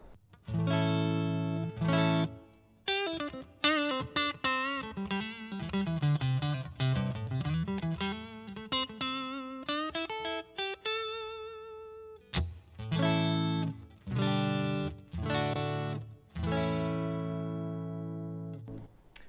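Electric guitar played through a Blackstar HT-20R MkII amp with reverb, chords and single-note runs ringing loud and sustained, with brief pauses between phrases.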